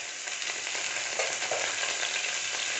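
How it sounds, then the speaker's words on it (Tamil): Ground masala paste sizzling and frying in hot oil for a ginger chicken masala, a loud, steady crackle that fills the whole stretch with no talk. "இந்த அரைச்ச மசாலாவை இந்த எண்ணெயில் போட்டுடலாம்."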